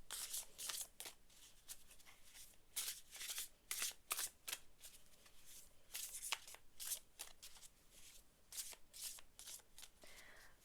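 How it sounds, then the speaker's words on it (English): Tarot cards are shuffled again and again in quick, crisp riffling bursts, close and fairly quiet, with no one speaking. "While I'm shuffling"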